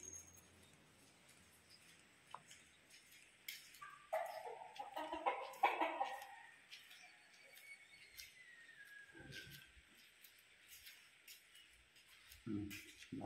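A chicken clucks softly a short distance away in a quiet outdoor setting, with a burst of clucking near the middle and light background noises.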